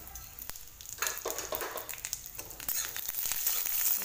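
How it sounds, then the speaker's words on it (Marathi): Sesame seeds and a little oil fry in a pan while being stirred, giving a soft, steady sizzle and crackle with scraping, fairly quiet and close, with no talk. "थोडंसं तेल टाकणार आहे। जरा छान परतून घ्यायचं। यामध्ये थोडीशी तीळ पण टाकायची।"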